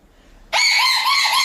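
A person imitates a seagull call, a loud, shrill, high-pitched scream that starts abruptly and holds steady for about a second, close to the listener and with no talk over it.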